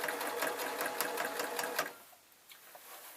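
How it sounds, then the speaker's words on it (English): A sewing machine stitches the binding onto a quilt with a rapid, steady mechanical chatter for just under two seconds, then stops, leaving a quiet room with faint small handling sounds. "my machine's making that sort of noise that's going to tell me that the bobbin's going to run out"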